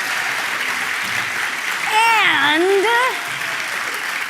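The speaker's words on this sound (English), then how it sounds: "Please give them a round of applause. Give yourselves a round of applause." Awards ceremony crowd applauding nominees and winners at a games event, broad steady clapping filling the hall while a voice speaks briefly and a bright rising-and-falling musical tone sweeps over the middle.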